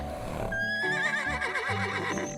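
A horse gives a loud, close whinny, a wavering, quavering neigh that rises and trembles for about two seconds over a faint background bed.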